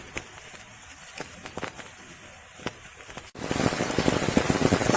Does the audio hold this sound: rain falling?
yes